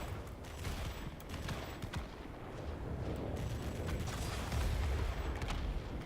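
An M39 cannon on an XF5U aircraft in World of Warplanes fires a sustained, dense rattle of rounds that grows slightly louder toward the end, rumbling throughout.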